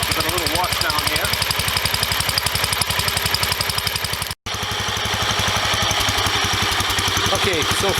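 A 1976 Wheel Horse C120 lawn tractor engine runs close by with a steady, rapid, pulsing idle that stays loud and even, broken only by a brief dropout.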